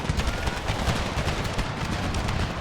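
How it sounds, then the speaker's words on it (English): Dense musket volleys and artillery fire from a Civil War video game battle rumble continuously at close range, a loud crackling barrage with heavy low booms. "Not only are the 2 units firing at close range, bloody artillery is opening fire as well."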